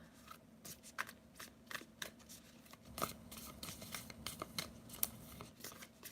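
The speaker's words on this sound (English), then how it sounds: "I'm going to continue shuffling really quickly" A tarot card deck is shuffled quickly and quietly up close, giving a string of crisp riffling snaps and soft flutters at an uneven rhythm.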